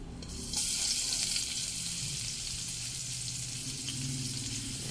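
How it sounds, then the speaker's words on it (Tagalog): Onion sautéing in a pan for coconut-milk leaf stew with anchovies, a steady broad sizzle that jumps louder after half a second and holds close and continuous, with faint stirring or water sounds beneath. "una nating igigisa yung sibuyas"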